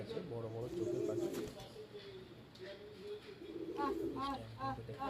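Tournament flying pigeons at a house coo in low, repeating throaty phrases close by, with a voice murmuring faintly underneath.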